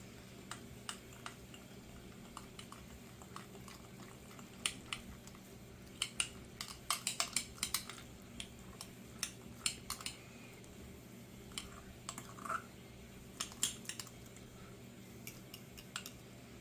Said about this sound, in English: we're using a fork to stir it into a nice thick paste